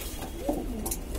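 A single soft, low Madrasi pigeon coo rises briefly in the middle, faint against quiet background noise.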